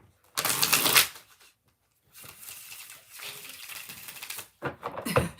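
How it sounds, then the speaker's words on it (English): Bursts of tarot cards being shuffled, a loud riffle followed by longer, softer shuffling passages and a few quick flicks near the end. "One more shuffle."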